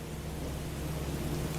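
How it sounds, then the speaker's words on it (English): Steady heavy rain pours down on an island with a low continuous rumble of thunder beneath it, dense and unbroken throughout. "It's just the rain."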